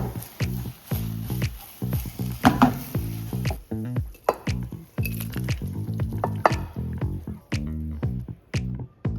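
Minced beef browning in a pan, sizzling quietly with repeated scraping and stirring strokes in an uneven rhythm, close and fairly soft.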